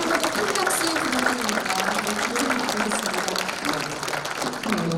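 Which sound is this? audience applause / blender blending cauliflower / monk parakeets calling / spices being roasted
audience applause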